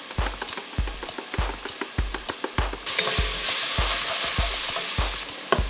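Cumin and other spices sizzle in a hot frying pan, a constant crackling hiss punctuated by regular scraping thuds of stirring, with a louder, denser burst of sizzle partway through.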